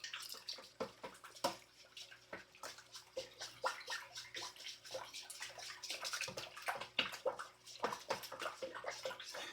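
Hand mixing sourdough starter into water in a bowl for a Tartine country loaf, giving a steady run of wet sloshing and splashing strokes close up, with no talk.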